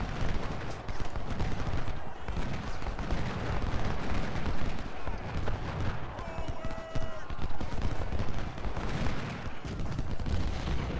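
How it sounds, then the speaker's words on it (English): Massed musket volleys and cannon fire rumble continuously in a Civil War battle at Gaines' Mill in Ultimate General: Civil War, a dense, steady roar of distant gunfire with low booms throughout and no pauses. "everybody shoot that guy right there"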